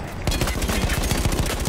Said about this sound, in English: I'm just shooting over the hill!